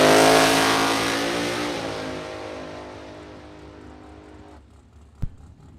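Drag race car fitted with a Vortec blower making close to 3,000 horsepower tears off down the strip, a loud roar that fades steadily into the distance, followed by a brief sharp thump near the end.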